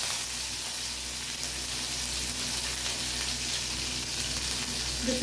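Dried red chili and green chili with mustard seeds and chana dal fry in hot oil, giving a steady, close sizzle that stays even and loud with no speech.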